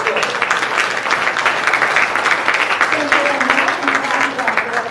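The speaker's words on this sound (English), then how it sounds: "let's give Tracy a round of applause" Audience applause at a regional summit panel session, a dense, steady wash of clapping that stays loud and continuous throughout, with a few voices mixed in.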